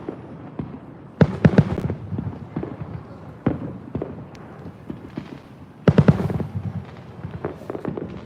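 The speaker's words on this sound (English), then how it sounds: "The fireworks are literally all around us" Fourth of July fireworks go off nearby and all around, irregular booms and sharp crackling bangs with a few louder close blasts, over a low rumbling background and faint voices.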